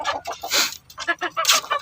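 A labuyo, a red junglefowl rooster, clucks in a quick series of close, loud, choppy calls with brief pauses between them.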